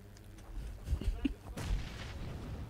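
Grenade blast in PUBG, a few sharp gunfire-like thumps followed by a broader booming burst that trails off, moderately loud amid quiet game ambience.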